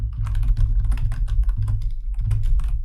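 Rapid clicking of a computer keyboard as code is typed, with steady, close, fairly loud keystrokes in quick uneven bursts, without any speech.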